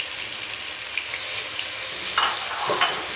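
Capsicum, tomato and ginger-garlic paste frying in a pan for aloo bharta, a steady close sizzle with a couple of brief stirring scrapes near the end, no voices.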